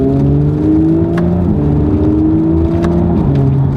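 A 2018 Audi S5 Sportback accelerating hard, its engine rising in pitch through quick, crisp upshifts of the ZF automatic transmission, loud and close with no talking.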